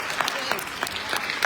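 Audience applause at a celebration-of-life gathering, a short burst of clapping with sharp claps standing out, heard under and alongside talk.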